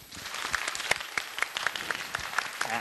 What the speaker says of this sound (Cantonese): 可唔可以俾多次掌聲我哋四川嘅居民？